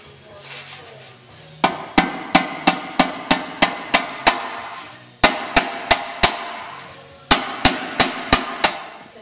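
Steel tank fitting being flared out toward the tank shell with a soft drift and hammer, three bursts of sharp ringing metallic blows in quick, even rhythm, loud and close, with short pauses between bursts.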